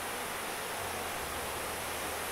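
Waterfall in the Agura gorge near Sochi pours with a constant broadband hiss and rush, loud and steady, water roaring over rocks with no voices.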